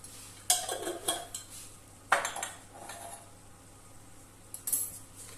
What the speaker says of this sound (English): And we'll give that a bit of a stir.